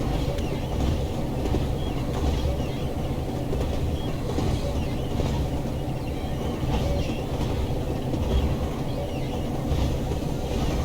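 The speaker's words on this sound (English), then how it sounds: "the sound of the train rolling without any engine. The engine is only idling." A classic British diesel train in Train Sim World rolls along with its engine only idling, a continuous low rumble of wheels and running gear with a steady mechanical hum, loud and unbroken with no voices.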